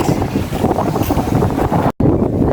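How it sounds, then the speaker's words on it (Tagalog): Strong wind gusts buffet the microphone at a seaport, a loud, steady roar with a brief dropout near the end and no talking. "It's quite windy today, but I hope we can cross the sea"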